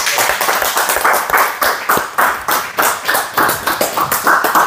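Audience at a lecture on Marx, Weber and the spirit of capitalism applauds after the presentation ends, a dense, sustained round of many hands clapping at close range with uneven surges.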